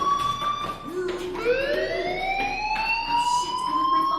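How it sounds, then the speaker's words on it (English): A school fire alarm in Life is Strange, a loud continuous wailing tone that rises and holds steady, sounding close and alone. "Hey, do you hear that fire alarm?"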